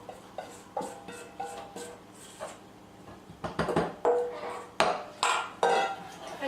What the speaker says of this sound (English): And you have to keep whisking all along.